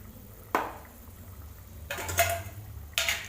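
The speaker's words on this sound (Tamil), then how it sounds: "தண்ணி நல்லா கொதிச்சு வர ஆரம்பிச்சிருச்சு. இந்த டைமில் நான் வந்து அரிசி எடுத்து போட்டுக்கிட்டேன்." Soaked rice goes into a pot of boiling water in a home kitchen: a sharp clatter, then a longer rattling pour and another quick clink against the metal pot, over a low simmering hiss.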